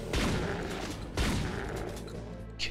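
Chaingunner enemy in Doom 2 firing its chain gun in bursts, two dense gunfire volleys with a short pause between, loud and close inside the game level.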